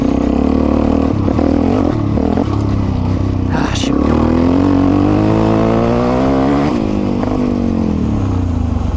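An off-road dirt bike engine drones loudly throughout, its pitch sliding and dropping as the rider brakes hard into an off-camber turn, then picking back up.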